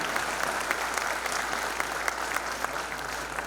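An audience at a formal university event attended by the state governor claps in steady, dense applause that holds evenly throughout, with no voices over it.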